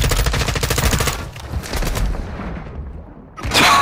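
Rapid automatic gunfire in Warzone 2, loud, close bursts of rattling shots that pause briefly, then a sharp final burst.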